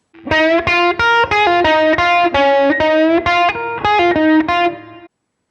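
A distorted electric guitar plays a quick run of about a dozen picked notes in a steady rhythm, loud and close, then stops abruptly.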